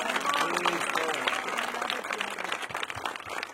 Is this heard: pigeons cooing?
no